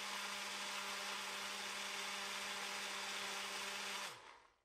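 A Ninja Fit personal blender runs with a steady high whirring motor hum that holds evenly, then cuts off and spins down near the end.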